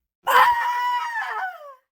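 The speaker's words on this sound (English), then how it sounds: "Elizabeth Braddock cannot hear her leader's words of caution over the sound of her own psionic scream." A psionic scream sound effect: a single loud, sharp-onset shriek lasting about a second and a half, harmonically rich and wavering, before tapering off into silence.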